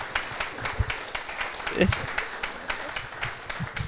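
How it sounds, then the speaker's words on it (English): A church audience applauds Dave, the speaker, with scattered, moderately loud claps running the whole length while a voice talks over them. "Can we give Dave a big round of applause?"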